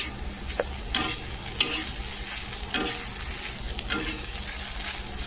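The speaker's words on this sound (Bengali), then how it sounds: "আলু উচ্ছে ভাজা হয়ে গেল" Potato and bitter gourd fry in an iron wok, a low sizzle broken by repeated scraping stirs of a spatula at irregular intervals, close by and with no talking.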